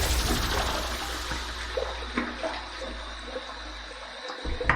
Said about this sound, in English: I got hot water on there.